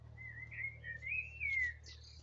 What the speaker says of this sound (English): There's some birds over there.